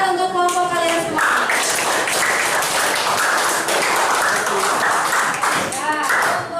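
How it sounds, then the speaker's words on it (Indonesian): A classroom full of students claps for their groups, a dense burst of applause lasting several seconds, with a teacher's voice speaking just before and after. "tepuk tangan untuk kelompok kalian semua."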